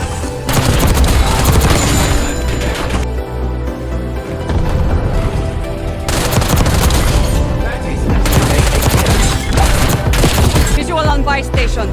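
Loud, sustained automatic gunfire in Black Ops 6, shot bursts booming and cracking close up almost without a break, with game sounds and a voice mixed in.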